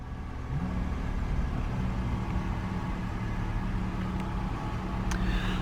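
A 2015 Toyota RAV4 2.0 engine catches and settles into a steady, smooth idle, heard close and continuous with a low hum and no talking.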